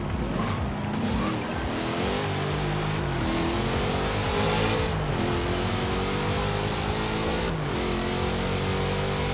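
Classic 1960s car in Forza Horizon 4 revving hard with a stock engine, its pitch climbing and dropping through repeated gear changes, loud and close with no talk over it.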